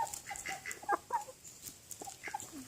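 Backyard chickens cluck in a busy, irregular patter during feeding, with short overlapping calls rising and falling close by and no talking.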